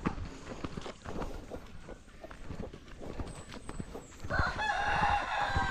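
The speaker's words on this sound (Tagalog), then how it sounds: "Ito yung bahay ng manok, paitlogan." A rooster crows and chickens cluck around a chicken house on a small farm, the crowing rising clearly near the end over a busy, rustling background of hens and other farmyard noise.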